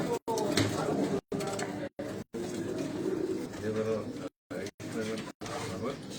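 Pigeons cooing in a loft, including a black Chinese-type hen, with soft repeated coos near and fairly steady, broken by brief dropouts, while someone talks over them.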